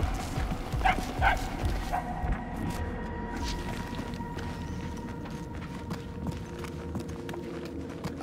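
A dog barking in the video game Guardians of the Galaxy, a few sharp barks early on, fairly distant and set against a dense, steady game ambience with a low rumble throughout.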